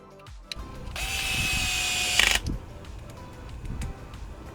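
A power screwdriver drives half-inch black plastite screws into an aluminum servo retainer plate, a steady whir of about a second and a half ending in a brief ratcheting burst, close and loud.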